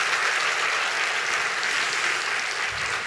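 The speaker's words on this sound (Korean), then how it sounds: "박수로 한번 격려합시다." A church congregation claps together during a Sunday evening service, steady continuous applause from a room full of people, moderately loud and unbroken for a few seconds.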